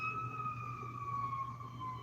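An ambulance siren wails with a steady, slowly falling tone, held at moderate distance over a low background rumble, with no voices.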